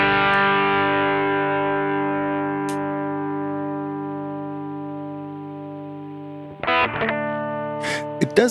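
Single guitar chord through soft distortion programmed on a Sigma DSP ADAU1452, sustaining and slowly decaying for several seconds, followed by a few quieter string noises and scrapes at the end.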